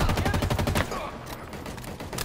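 Rapid automatic gunfire from a video game firefight rattles in dense, loud bursts for under a second, then drops to a quieter, scattered background of combat noise.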